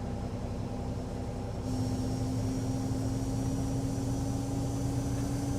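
Airbus A321 engines in the X-Plane 11 flight simulator, a steady, fairly quiet whine and rumble with a constant tone that steps up slightly partway through, no voices.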